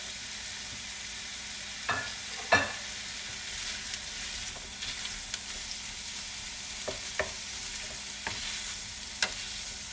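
Summer sausage slices fry in a pan with a steady, moderately loud sizzle, broken by a few sharp stirring scrapes of a utensil.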